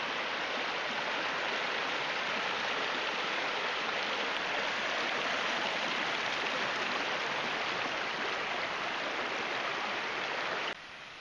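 Hazel Creek in the Great Smoky Mountains backcountry rushes steadily past, a loud, even broadband wash of flowing water heard close, with no voices, dropping slightly in level just before the end.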